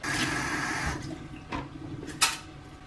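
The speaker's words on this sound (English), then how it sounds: "I'm going to pour the more liquidy stuff out of there" Melted, runny milkshake is poured off the top of a Nutribullet cup, giving a fairly quiet, uneven splashing trickle with a few brief spatters.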